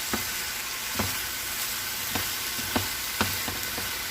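An orange sesame stir fry of steak, onion and pepper sizzles in a hot pan, giving a steady close hiss broken by sharp crackling pops at irregular intervals, with no talking.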